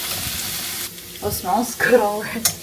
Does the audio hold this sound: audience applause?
no